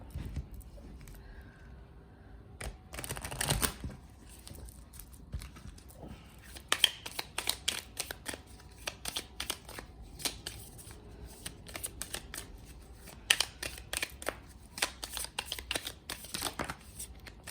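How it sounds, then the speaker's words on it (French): Tarot cards being shuffled by hand, face up and face down, in a quiet room: close, dry riffles and slides in irregular bursts, with a louder flurry early on and soft tapping and flicking between. "Alors, on va mélanger un peu endroit envers."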